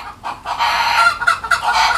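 A chicken clucks close by in a rural home kitchen, giving a quick series of loud, rhythmic clucks across two seconds with no talking.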